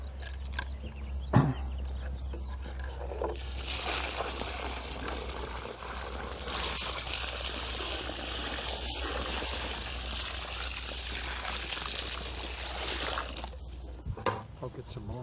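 Water pours into a deep, wide planting hole around a tree, a broad splashing gush that runs steadily for about ten seconds before stopping, with people talking around it and birds faintly nearby.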